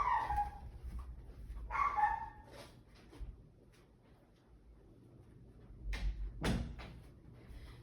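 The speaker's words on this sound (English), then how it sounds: "I'm going to close my door here because the dogs are going crazy." Dogs bark in a few short bursts indoors, then a door thumps shut nearby, with quiet room tone in between and no talk.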